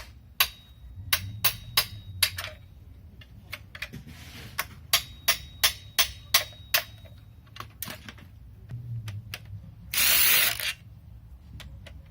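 A ratchet works on the 13mm timing chain tensioner bolts of a VW Passat engine, giving bursts of crisp, close clicks in quick series, with a short hiss-like burst near the end.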